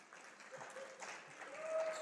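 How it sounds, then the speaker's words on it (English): Applause from the crowd at a Mt. Carmel Lady Aces girls' basketball game against Casey Westfield, honoring seniors; a moderate, steady round of clapping in the gym with a faint whistle-like tone near the end. "Seniors getting a nice round of applause"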